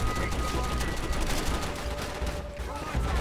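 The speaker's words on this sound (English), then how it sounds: "they're shooting through these boxes" Rapid enemy gunfire in Call of Duty: World at War, dense overlapping bursts of automatic shots in a continuous crackling barrage, moderately loud with a short lull before resuming.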